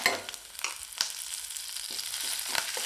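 Ginger, dried red chili and curry leaves sizzle and crackle steadily in oil in a pan, with a few stirring scrapes and light pops, close up and fairly quiet with no voices.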